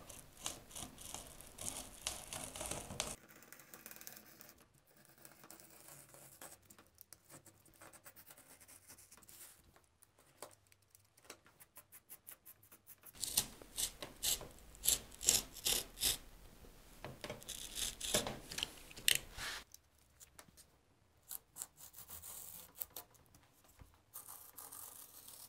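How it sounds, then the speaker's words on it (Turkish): A blade slices through thick cardboard being cut into chair parts, with close rasping and scraping strokes in irregular bursts and quieter pauses between, fairly faint with no talking. "Evet, şimdi bu köşeden başlayıp kesiyoruz."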